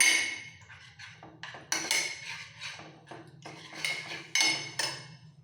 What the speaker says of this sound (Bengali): আগে দইটাকে একটু ফেটিয়ে নেবো